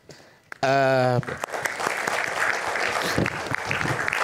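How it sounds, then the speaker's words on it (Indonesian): A studio audience at an Indonesian televised talk show breaks into applause right after a short tonal chime, the clapping continuous and full for several seconds. "boleh tepuk tangan"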